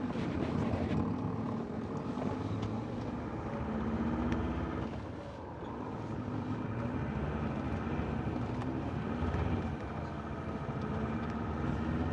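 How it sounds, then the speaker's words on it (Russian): A helicopter approaches an airfield in a war zone, a steady, loud, broad rotor-and-engine drone that swells slightly and fades a little in places. "Я розумію, летить вертушка."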